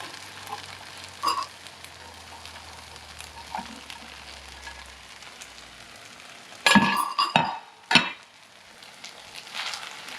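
Meat for Hawaiian fried rice sizzles quietly in a pan, with a few sharp scrapes and clinks of a utensil stirring and tossing, the loudest cluster of strokes coming near the end.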